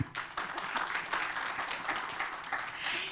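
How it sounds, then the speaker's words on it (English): Conference audience applauding panelists at the AfPIF 2026 internet forum, lively clapping from a sizeable crowd with uneven bursts and swells across a few seconds. "let's appreciate them with a round of applause"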